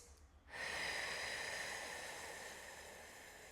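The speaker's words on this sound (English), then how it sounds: "Breathing into the side of the ribs." A single deep breath drawn in during a core exercise for runners, a sharp airy intake that swells suddenly and then tapers off slowly, close and alone.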